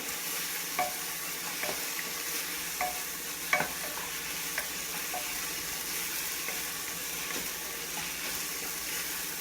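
Onions frying and being stirred in a pan for mutton chalna: a steady close sizzle under repeated light scraping stirs, with no talking.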